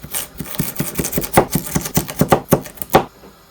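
Rapid, steady chopping with a cleaver on a board, about a dozen sharp strikes in quick rhythm, close and loud.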